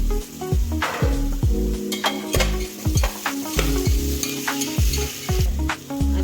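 Onion and ginger-garlic paste fry in a pan for a chicken biryani, with a loud sizzle under rapid, repeated spatula scrapes and knocks against the pan, close up and without talk.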